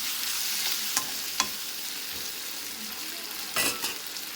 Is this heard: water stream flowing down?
no